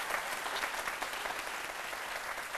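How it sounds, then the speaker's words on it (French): A studio audience on a midday television talk show breaks into steady, dense applause that keeps going evenly throughout, close and loud, with no one talking over it. "Je ne sais pas si vous avez entendu les applaudissements,"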